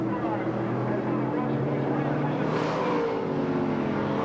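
A race car in an AUSCAR heat race slows rapidly with a suspected tyre problem, its engine drone falling in pitch as it heads toward pit lane, heard steadily over a broadcast commentary voice.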